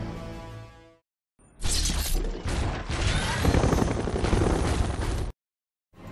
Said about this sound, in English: that is, of course, Shockwave's helicopter mode